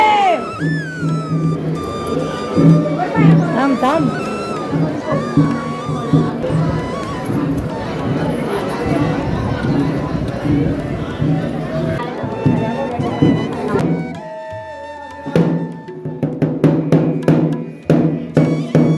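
A dense crowd of devotees fills Jotiba temple in Kolhapur with loud, continuous chatter and overlapping voices close by, with shuffling and scattered clatter throughout.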